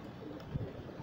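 Domestic pigeons in a rooftop loft give a single low, soft coo midway through, close by against a quiet background hum.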